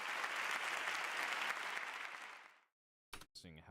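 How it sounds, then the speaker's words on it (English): Audience applause from a live comedy show crowd, a dense steady roar of clapping that fades out over about two and a half seconds, followed by silence and a brief burst of voices. "You get applause for that."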